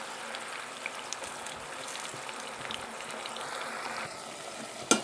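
Steady sizzling and crackling of food frying in a pan, a continuous hiss with faint scraping, ending in a sharp clink.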